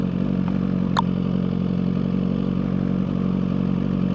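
Suzuki GSX-R1000R liter-bike engine running steadily at low to mid revs while riding, with one brief clatter near the start; moderate, continuous and without talk.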